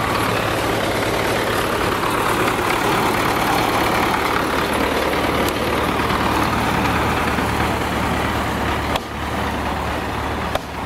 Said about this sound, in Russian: Это трактор.